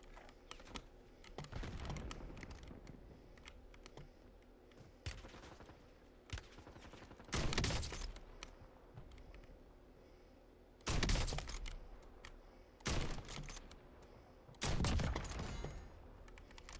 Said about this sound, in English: This weapon is so loud.